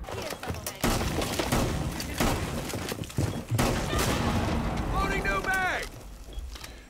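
Rapid shotgun blasts from a first-person shooter fight crack out in heavy, overlapping bursts over a dense wash of combat noise, with a player talking over parts of it.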